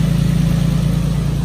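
A Nissan 350Z engine idles nearby, burning off excess oil, a steady low rumbling hum with an even pulse throughout, no talking.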